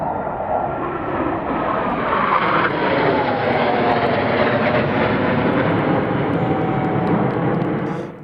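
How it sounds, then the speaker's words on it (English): Roaring jet engines as the two US flagship jet demonstration teams fly over Baltimore in formation, a loud, steady, broad rush that holds for about eight seconds and fades slightly at the end, no voices. "The United States' two flagship jet teams in formation, seen here coming across Baltimore on May 2nd."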